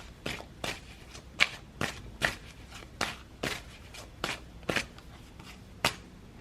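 A deck of cards is shuffled up close, giving about a dozen crisp, papery riffles and slaps in a quick, fairly even rhythm in a quiet room.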